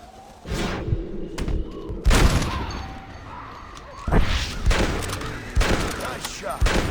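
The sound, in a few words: gunshots in Red Dead Redemption video game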